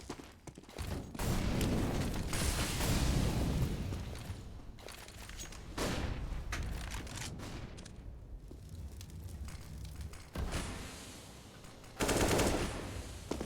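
Rapid automatic gunfire and scattered single shots crack through a professional tactical shooter esports match between Eternal Fire and Galaxy Racer. Dense bursts come in waves, with quieter stretches between them and a final loud volley.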